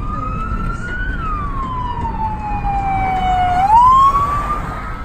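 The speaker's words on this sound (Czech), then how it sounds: "Sanitka!" An ambulance siren passes on a road near Kolín, Czech Republic: one loud, steady wailing tone that sweeps down slowly, then rises again as the vehicle goes by, over traffic rumble with no talking.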